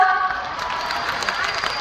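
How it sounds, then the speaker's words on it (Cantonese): Concert audience clapping, a steady, even wash of applause spread across the hall, moderately loud, with faint tonal hum underneath and no clear voices. "希望大家繼續俾掌聲，唔好俾佢停啊"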